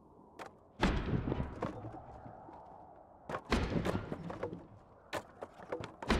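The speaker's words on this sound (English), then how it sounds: "Is it these? Okay, it looks like it's a log rolling around." Heavy thuds and bangs from a log rolling around and hitting cars in a tornado, several irregular impacts over a roaring wind, heard from a moderate distance.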